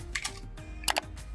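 A few quick keystrokes on a computer keyboard as a ping command is entered on a Windows 10 machine, light clicks in two brief clusters over a low room hum.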